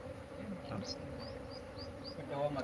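Honey bees drone steadily around hive boxes outdoors, a continuous close buzz with a few higher whines passing by as people talk nearby.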